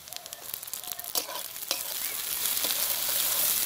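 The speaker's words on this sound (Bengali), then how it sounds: "এখন আমি দিয়ে দিচ্ছি টমেটো কুচি," Chopped tomato hits a pan of browned onions, followed by close stirring scrapes and a rising, steady sizzle that grows louder and fills the end.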